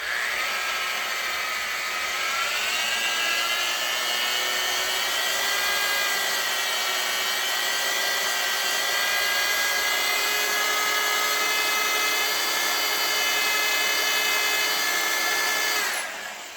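A drill bit bores steadily into the soft cast metal of a GM 2.4 Twin Cam engine during a balance shaft delete. A loud, continuous whine runs without a break for about sixteen seconds, then cuts off at the end.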